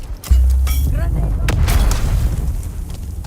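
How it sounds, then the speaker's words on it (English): A grenade explodes in the video game Dune Awakening with a single deep, loud boom at the start, followed by a rolling low rumble and scattered crackles and clatter, with combat noise around it. "Grenade."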